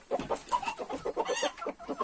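Chickens and several roosters cluck in quick, irregular bursts close by, a busy overlapping chatter with no talk.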